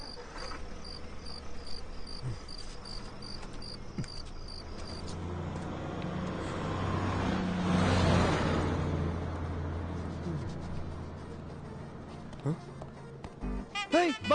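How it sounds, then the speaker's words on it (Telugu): A bus pulls away: its broad engine rumble swells to a peak midway, then fades into the distance, over a steady bed of chirping crickets and insects. "బస్ వెళ్ళిపోయింది."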